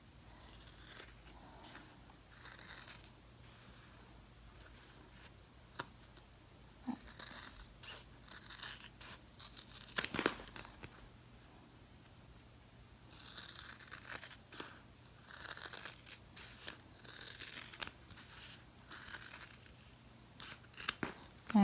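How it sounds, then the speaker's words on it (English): Scissors snip along the stitched edge of a handmade sketch keeper, close to the stitching, in a series of short, crisp cuts separated by pauses against a quiet room, with no speech. "You just want to cut close to the stitches"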